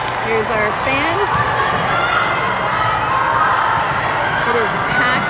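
A packed gym of parents cheering and shouting at a 14U youth volleyball semifinal, loud and continuous crowd noise with children's shouts and a few thumps, excited voices running through it.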